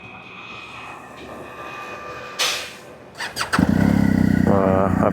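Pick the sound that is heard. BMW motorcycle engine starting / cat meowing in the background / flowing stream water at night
BMW motorcycle engine starting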